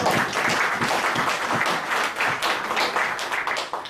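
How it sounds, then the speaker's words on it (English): Audience applause at a film pitching session, dense and even clapping from a crowd, close and moderately loud throughout. "let's applaud that effort of FICCI FW and those producers"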